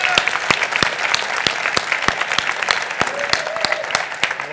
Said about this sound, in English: Welcome, please, a big applause.